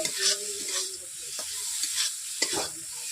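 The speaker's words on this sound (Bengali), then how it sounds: "এইভাবে আমি কষিয়ে নিচ্ছি ঢোকাগুলোকে" Pangas fish dhoka pieces sauté with spices in a pan, crackling and sizzling under several scraping stirs of a spatula, close and alone.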